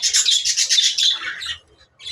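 Caged pet parrots and lovebirds in a shared enclosure chirp and squawk in a dense, loud, close burst of overlapping shrill calls that stops briefly before resuming.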